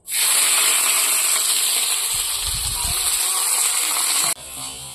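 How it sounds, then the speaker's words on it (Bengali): Onions fry in a pan with a loud, close, continuous hiss and sizzle that cuts off abruptly near the end, leaving quieter background sound. "আজকে পেঁয়াজটা ভেজে নিচ্ছি আলাদা করে"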